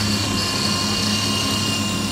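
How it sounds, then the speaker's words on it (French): A single-rotor fixed-pitch RC helicopter, a 250-size model, hovers close by with a steady, dense whine and rotor drone, holding even and continuous throughout with no voices. "On va remettre un peu de gaz pour le faire remonter"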